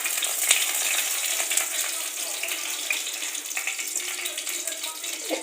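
Three or four dried red chillies fry in hot mustard oil, producing a close, continuous crackling sizzle with a bright hiss throughout.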